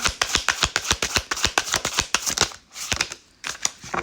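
Tarot cards being shuffled by hand, a rapid run of crisp snapping riffles and taps close up, with a brief pause before a few more sharp flicks, no voice over it.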